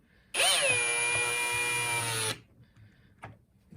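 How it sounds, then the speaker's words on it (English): A power drill on low speed whines steadily for about two seconds as it drives a pocket hole screw into pine, then stops, leaving faint room noise and a light clunk. "Make sure your drill is in the low speed section anytime you're drilling pocket hole screws into pine"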